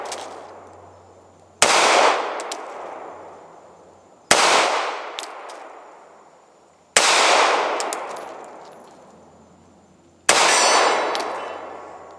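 Four CZ 2075 RAMI pistol shots fired at a steel target, each a sharp loud crack with a ringing metallic clang decaying over a couple of seconds, spaced a few seconds apart at an outdoor range.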